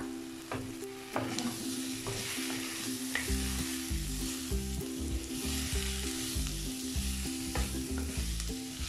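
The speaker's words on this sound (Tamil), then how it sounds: "பீட்ரூட் எண்ணெயிலே ஒரு சில நிமிஷம் வதக்கலாம்" Beetroot sautéing in oil with onion, garlic and curry leaves for beetroot poriyal, a steady close sizzle with repeated scraping stir strokes and light clinks of the spatula against the pan, no voices.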